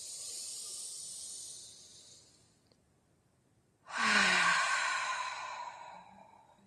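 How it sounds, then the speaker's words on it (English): A long, airy exhale through the mouth, part of an intentional breathing exercise. It fades out, then after a pause a second loud, breathy exhale follows, close to the mic and heard alone. "Intentional breathing."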